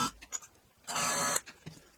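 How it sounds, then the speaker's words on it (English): A wood screw hole being countersunk in a hand-tool woodworking bench-stop jig. It gives a brief, close, half-second whirring grind with faint scraping clicks before and after. "the screws I found are normal wood screws, so I'm gonna countersink this too."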